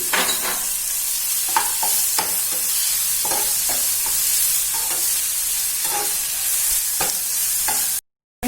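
Small pieces of chopped tomato sauté in a hot pan for Kerala-style fish biriyani, a constant sizzle broken by repeated close scrapes and taps of a spoon stirring, ending in a sudden cut to silence.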